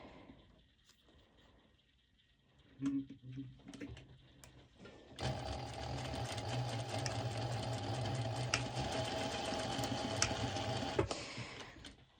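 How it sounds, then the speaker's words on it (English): A sewing machine stitches a small fabric strap onto the wrong side of the fabric for a violet crop top, running in a steady, loud, continuous whir for several seconds after a few quieter stops and starts. "on the wrong side of the fabric, I'm going to stitch this little strap"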